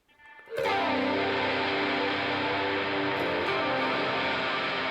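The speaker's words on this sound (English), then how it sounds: "I can get a super distorted reverb, and then I'm blending it with the volume pedal" An ambient electric guitar chord swells in through a volume pedal into a heavily distorted reverb, then sustains as a loud, dense wash of sound with no talking.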